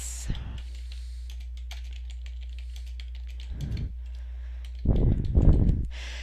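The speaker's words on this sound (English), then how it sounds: "So I started to type in their name." Keys on a computer keyboard click in scattered taps and short bursts, with a couple of denser louder flurries near the end, close and otherwise quiet.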